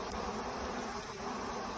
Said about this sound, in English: You've got your queen in here with some attendant bees